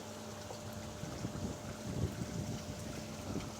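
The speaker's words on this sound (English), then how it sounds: "Don't even know if you'll be able to hear any of this with the wind." Steady wind blowing outdoors beside a koi pond, rumbling across the microphone as a continuous low, buffeting roar with gusts swelling and fading, with no voices.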